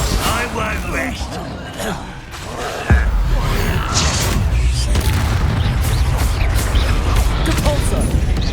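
Spell explosions from Bombarda and Confringo in the video game Hogwarts Legacy: loud booming blasts and whooshes in a dense, continuous combat mix, with a voice shouting incantations over it.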